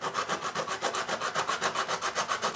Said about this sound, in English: I'm gonna take a little bit of sandpaper and clean up these little bits